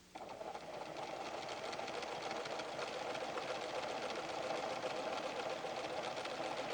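PFAFF creative 7550 sewing machine with presser foot 2A stitching a cross-stitch memory pattern, a continuous steady mechanical whir and rapid needle chatter that starts abruptly and runs evenly, close and alone.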